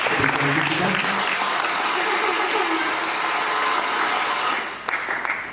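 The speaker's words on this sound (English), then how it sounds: "I'd like us to give them a round of applause and say thank you to them." Audience at a worship event giving the organizers a round of applause, sustained dense clapping with some voices mixed in, tapering off near the end.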